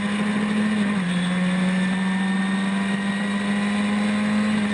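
Historic racing cars run wheel to wheel at the Phakisa circuit during a heat, heard as a steady, loud engine drone that holds one pitch with a slight dip, no voices over it.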